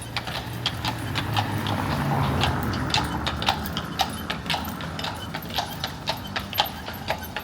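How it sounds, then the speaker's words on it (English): A horse and buggy clip-clops past a hotel on a city street, with a steady rhythm of crisp hoof strikes that grow sharper and more distinct as the horse passes close by. "we got a little horse and buggy right here"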